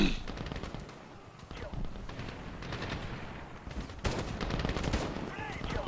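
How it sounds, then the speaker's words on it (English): Dense gunfire rattles through a Medal of Honor firefight, with bursts and a heavier blast like a grenade going off amid the shooting, loud and continuous, with some speech-like sound mixed in. "That was a grenade."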